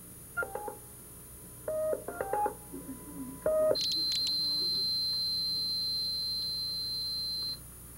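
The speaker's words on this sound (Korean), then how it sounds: "경보장치는 중앙에서 접수한다." Emergency alarm device in elderly housing, a few short beeping tones followed by a steady high-pitched buzzing tone lasting several seconds, fairly clear and close.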